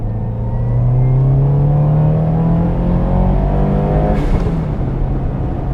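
A twincharged Subaru WRX pulls hard in second gear, its loud engine note climbing steadily in pitch with a deep rumble, then a sharp burst near the end as the revs change.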